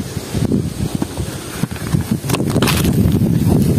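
Gusty wind buffets the microphone during a fishing outing, with low rumbling blasts and rustling that come in uneven surges and strengthen toward the end.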